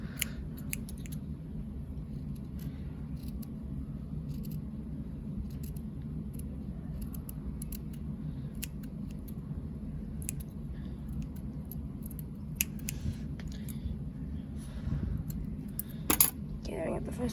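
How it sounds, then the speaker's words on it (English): Scissors snipping a small circle out of fabric for a plush pig's eye, faint scattered clicks and short cuts at close range over a steady low hum, with a sharper cluster of snips near the end. "I'm going to cut out one small little circle for the first eye."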